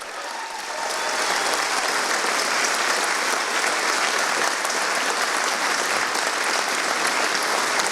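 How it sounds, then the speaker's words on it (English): Loud, dense audience applause at a Texas Patriots PAC political event, swelling in after the first second and holding steady as a continuous wash of many hands clapping. "Let's give them a big round of applause."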